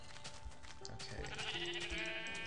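White sheep in Minecraft bleat in overlapping bursts, a short call first, then a longer quavering bleat that swells toward the end, close and moderately loud, with no one speaking.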